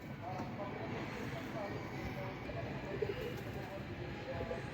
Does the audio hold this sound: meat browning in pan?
no